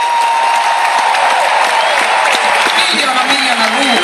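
Loud, sustained applause from a large concert audience in an arena, steady clapping filling the whole span with crowd noise and some cheering mixed in.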